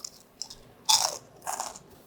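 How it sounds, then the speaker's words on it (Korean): Crispy fried pepper chips coated with sugar and a rice-flour batter are bitten close up, giving two sharp, loud crunches after a few faint clicks, with no talking. "그 다음에 설탕을 버무린 고추부각을 먹어볼까요?"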